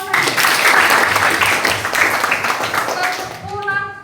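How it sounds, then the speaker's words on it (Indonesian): An audience in a church or classroom gathering claps in a loud, dense burst of applause that gradually thins out, with a voice starting to speak as the clapping fades at the end. "Terima kasih, tepuk tangan lagi."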